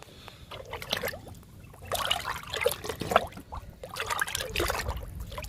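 Liquid fertilizer trickles and pours onto the soil around a young drumstick (moringa) plant in a garden, a steady watery splashing with a few louder gushes, close by and with no talk.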